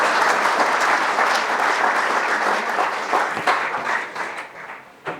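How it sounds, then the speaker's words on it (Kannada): Loud, dense applause from a large audience at a public gathering, sustained clapping for several seconds that thins and fades toward the end. "ಜೋರಾದ ಚಪ್ಪಾಳೆ ಬರಲಿ"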